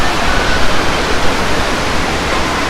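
Steady broadband rush of water pouring down slides at an indoor waterpark resort, continuous and fairly loud with no voices.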